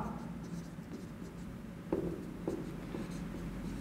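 Pen or chalk strokes scratch steadily while an algebra inequality equation is written out by hand, with a couple of firmer taps, faint and close.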